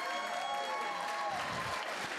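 A comedy club audience claps and cheers during a stand-up set, a dense, steady wash of applause that fills the room and stays loud throughout.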